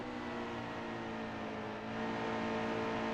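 A stock car engine holds steady at throttle in the NASCAR Heat 2 racing game at Indianapolis, a quiet continuous drone that swells slightly toward the end.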